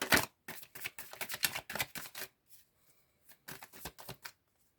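Oracle cards being handled and shuffled, giving a run of close, crisp papery riffles and slaps in bursts, with a short pause midway before a few more quick shuffles.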